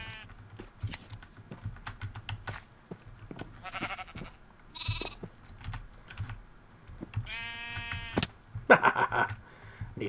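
Sheep bleating in a video game, several short bleats scattered among rapid computer keyboard typing and clicks, fairly quiet overall.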